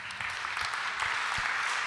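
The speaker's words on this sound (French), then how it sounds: "On peut les applaudir à nouveau." Brief, steady applause for the actors from an audience at a colloquium held in the Hôtel de Lassay, an even patter of clapping at moderate level with a few heavier claps.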